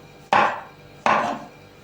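Two crisp, close knife cuts through champignon mushrooms on a board, spaced about three-quarters of a second apart, with no other sound.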